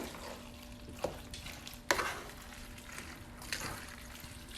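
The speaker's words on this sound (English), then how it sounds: "So let's just throw this in here, give it like a good mix." Half and half is stirred into macaroni and cheese with a continuous wet, squelching mixing sound and occasional louder scrapes, close up.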